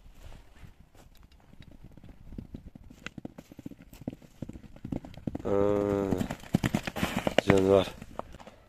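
Hooves of a walking horse clip-clop in a steady rhythm on hard ground, close by, while people talk over them.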